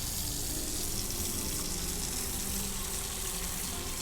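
Water runs steadily into a container in the game Autopsy Simulator, a continuous broadband rush and splash at a constant level with no talking over it.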